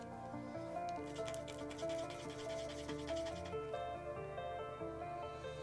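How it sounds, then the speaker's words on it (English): Hand-sanding a wood-burned wooden coaster, a faint, soft rasping rub in short repeated strokes, very quiet beneath a steady tonal background hum. "So, I'm just kind of sanding down here so that I can get more of a golden color in this area."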